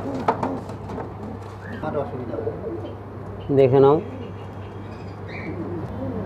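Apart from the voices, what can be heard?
papos pigeons cooing in a bird shop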